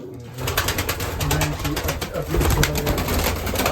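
Budapest and Chaposh breed pigeons coo loudly and continuously, with many overlapping birds calling close by in a busy loft.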